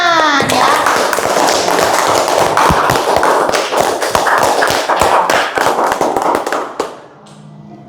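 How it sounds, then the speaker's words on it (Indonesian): A primary school class in a classroom claps hands together loudly and energetically for several seconds, a dense patter of sharp claps that dies away abruptly at the end. "Tepuk tangan ya."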